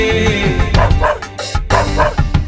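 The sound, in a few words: dog barking in Noah's Ark musical skit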